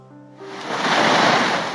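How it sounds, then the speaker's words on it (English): Niagara Falls, water pouring nearly 200 feet between the U.S. and Canada, as a broad steady roar of rushing water that swells in over the first moment and then holds loud and constant. "water cascading nearly 200 feet between the U.S. and Canada"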